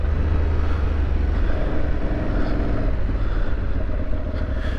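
An Aprilia Tuareg 660 motorcycle rides off-road with a steady, loud engine drone and low rumble that holds without a break, with no voices over it.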